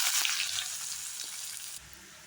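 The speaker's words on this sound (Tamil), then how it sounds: "நல்லா எண்ணெயில் கொஞ்சம் கிளறி விட்டுக்கோங்க" Onions sizzle steadily in hot oil with two cloves and a little fennel in a pan for a soya chunk gravy. A few soft stirring scrapes sit under the frying hiss, which drops away near the end.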